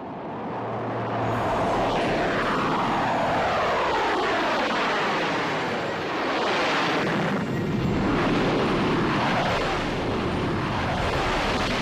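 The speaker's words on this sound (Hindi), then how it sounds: "सुखोई भारतीय वायुसेना का सबसे घातक विमान" An Indian Air Force Sukhoi fighter jet roars past, its loud, sustained engine noise filling the air for nearly twelve seconds with sweeping pitch shifts as it flies by, and no voices present.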